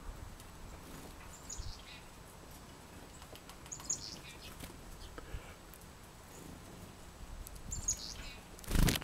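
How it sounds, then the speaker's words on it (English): Chickadees at a nature center feeder give a few faint, scattered high chirps over a quiet outdoor background. "Hi, chickadee. We're at the nature center."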